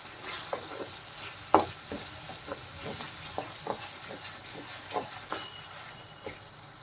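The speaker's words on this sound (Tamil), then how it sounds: "இதை நல்லா வதங்கட்டுங்க" Bitter gourd sautéing with rock salt in a pan, a steady soft sizzle broken by repeated spatula scrapes and stirs, one sharper clack near the middle, close and fairly quiet with no talking.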